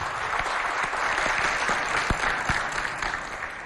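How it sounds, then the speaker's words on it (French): A studio audience at a televised African women-and-media show applauds steadily, a dense, even wash of clapping with a few louder individual claps standing out, sustained throughout. "Alors, regardez ce bonbon, applaudissez quand même"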